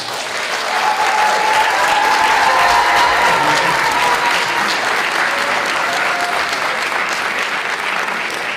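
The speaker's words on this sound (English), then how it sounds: "Getting an applause line, didn't even know it was there" Town hall audience at a school district meeting breaks into applause, a broad, steady wash of clapping from a sizeable crowd, loud and sustained, with faint voices or whoops threaded through it.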